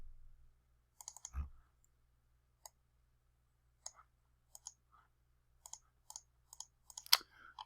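A computer mouse clicking at a desk: sparse, sharp, faint clicks in a quiet room, single and in small clusters, with a soft thump early on.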